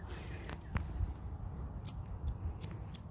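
Scissors trimming the coat of a Portuguese Water Dog during a retriever-style grooming trim, a few soft snips over steady low background rumble, close and fairly quiet.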